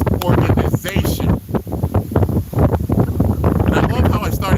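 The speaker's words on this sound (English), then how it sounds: "the weather picked up and it's really, really windy" Strong wind buffets an outdoor microphone in heavy, continuous gusts, loud rumbling bursts rising and falling throughout with no let-up.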